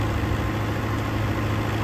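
A New Holland 850 tractor engine runs steadily at around 1450–1500 RPM while driving a wheat thresher, a continuous close diesel drone with a low hum and no breaks.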